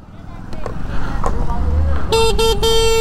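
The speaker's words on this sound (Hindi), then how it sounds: "ये हॉर्न हमारा वो भी काफ़ी अच्छा है" A White Carbon O3 electric scooter's short electronic horn beeps several times in quick succession, close and loud, following a few quieter tones over a low engine-like hum.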